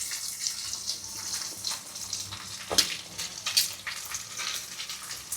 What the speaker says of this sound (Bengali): এবারে তেলটা গরম হলো, ওই মাংস ভাজা তেলেতেই পেঁয়াজগুলো দেওয়া হচ্ছে।